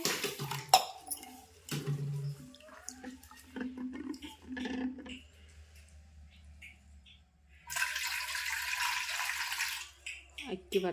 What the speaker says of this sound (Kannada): ಇದಕ್ಕೆ ನೀರು ಹಾಕಿ ನೆನ್ಲಾಕ್ ಬಿಡ್ತೀನಿ ರೀ.